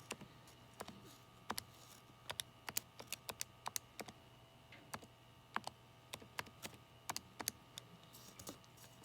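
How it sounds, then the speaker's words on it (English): Numbers are typed onto a calculator keypad as a quick series of light, crisp plastic key clicks in an irregular rhythm. The clicks are close but quiet over a faint background hum, with no talking. "So we'll type this in to our calculator to see what this equals."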